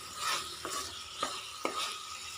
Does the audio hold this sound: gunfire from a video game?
no